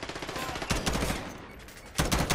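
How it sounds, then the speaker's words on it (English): An MP5 firing in Call of Duty Modern Warfare, short rapid bursts of close, loud shots with a brief lull between two volleys. "His MP5 just shot me."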